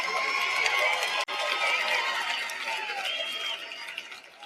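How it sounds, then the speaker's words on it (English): A conference audience claps and cheers in a large hall, a dense sustained wash of applause and voices that gradually fades toward the end. "Let's clap that up."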